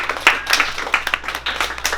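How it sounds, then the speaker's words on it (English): Audience applause for helpers at an Empower & Evolve talk event: a short burst of scattered, uneven hand claps from a small group, fairly close, with no talk over it. "let's give them a round of applause too"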